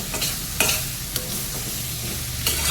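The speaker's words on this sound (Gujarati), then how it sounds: "અને હવે આ ટોપરાન છીણ અને દૂધ બે એડ કરી દેવાનું. એડ થઈ ગયું. હવે બધું મિક્સ કરવાનું." Grated coconut and milk are stirred in a hot pan under a constant close sizzle, with a few distinct scraping strokes of the spoon breaking through at intervals.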